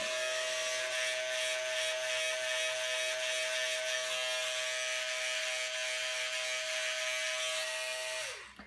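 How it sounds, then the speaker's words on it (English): Electric beard trimmer buzzing steadily up close on a short beard, a continuous high whine that holds for several seconds before winding down at the end. "Since I've already got this, I'll go with the trimmer."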